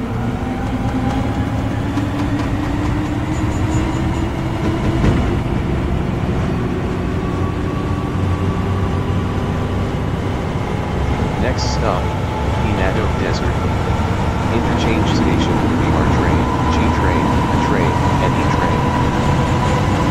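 A New York subway train runs at speed, with a continuous low rumble, rattling carriage noise and faint squeals throughout, and a voice talking over the ride.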